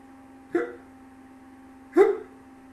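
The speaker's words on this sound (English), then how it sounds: "This is called the hiccups." Two sharp, close hiccups about a second and a half apart, each a short voiced gulp, heard alone against a quiet background.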